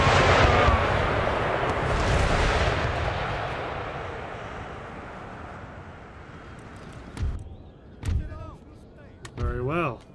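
Artillery shells fire in an Empire Total War battle, opening with a loud booming salvo that rumbles and fades over several seconds, followed by a few shorter distant bangs and voices.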